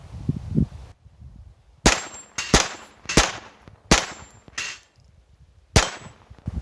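.22 LR Stinger rounds fired one at a time from a Glock 44 pistol outdoors, six sharp cracking shots at uneven intervals, each with a brief metallic ring and short decay, loud and close.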